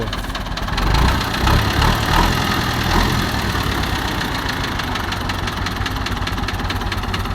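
Old Ford farm tractor engine idling nearby with a steady, rough low rumble and faint knocking pulse, running continuously without voices.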